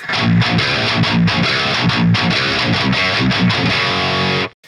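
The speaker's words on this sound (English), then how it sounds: "you are pushing a lot of high frequencies in the distortion and get a very aggressive attack" A heavily distorted electric guitar through a Fortin Killer Kali preamp plays an aggressive, chugging rhythmic riff, loud and gritty with choppy muted strokes and strong high frequencies, stopping abruptly at the end.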